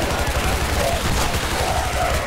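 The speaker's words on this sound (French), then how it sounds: "y'a tout qui explose" Heavy explosions and gunfire in the video game Shadow Warrior form a dense, continuous roar of blasts, loud and chaotic throughout.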